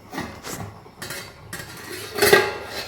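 A metal lid clatters onto a pot of chicken curry with several separate clanks and scrapes, close and moderately loud, spaced out over a couple of seconds.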